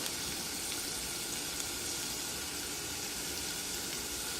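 Green peppers sizzle steadily in a hot pan alongside salt, a dense, even hiss that stays close and loud throughout with no pauses or talk.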